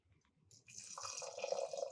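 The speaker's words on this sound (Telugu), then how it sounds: "దీనికి ఏంటంటే 1కి 2 నీళ్ళు పోసి స్టవ్ మీద పెట్టేద్దాం." Water is poured into a pot for cooking rice for sweet pongal, a faint trickle at first that swells into a steady, close, fairly quiet pouring stream over the second half, with no talk.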